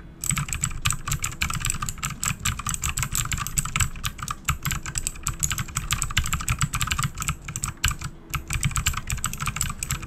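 Continuous rapid computer keyboard typing recorded close on a Blue Yeti condenser microphone in cardioid mode, with dense, uneven clicking keystrokes for ten seconds.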